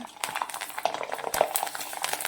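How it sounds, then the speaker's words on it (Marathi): Fasting-style sabudana and potato papad sizzle as they fry in hot oil, a continuous soft crackle with a few light utensil clinks and a faint voice in the background. "आता आणखीन एक तुम्हाला तळून दाखवते"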